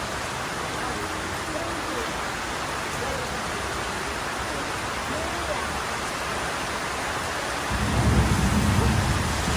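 Heavy rain hisses steadily during a street-food outing in a storm, and a low rumble of thunder rolls in near the end, loud and broad, with voices talking around it.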